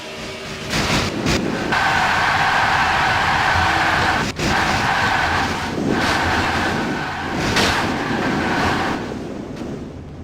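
A number 24 NASCAR Chevrolet Camaro race car in a video game roars steadily from an onboard view, a loud continuous engine drone with a sharp brief break midway and a few surging swells.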